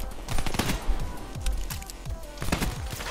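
Rapid automatic gunfire in an online shooter game, sustained bursts of loud repeated shots with quick rhythmic reports, close and dense throughout, no talk over it.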